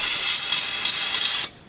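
Carburetor cleaner spray hissing into the carburetor of a 1969 Ford F-250 truck, one continuous close, loud burst of about a second and a half that cuts off abruptly.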